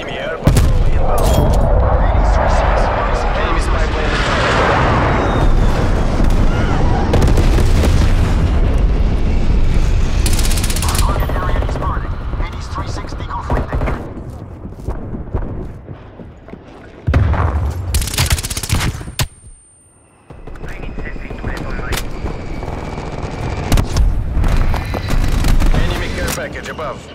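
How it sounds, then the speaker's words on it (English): Call of Duty: Black Ops Cold War gameplay: sustained gunfire and heavy explosions from an artillery strike roar loud and near, with bursts and booms layered over game voice callouts, then a few sparser shots and blasts trail off. "Artillery targeting detected. Artillery inbound."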